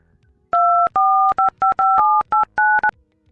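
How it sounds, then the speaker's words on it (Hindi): A telephone is dialed to call a contractor: a quick series of about eight loud, clean keypad tones, each short and evenly spaced, heard alone. "लो फोन लगाओ ठेकेदार को"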